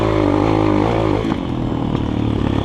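GEON X-Road 250 PRO enduro motorcycle running while ridden, its exhaust a loud, steady harmonic drone that shifts pitch partway through as the engine note changes, close and continuous with no voices.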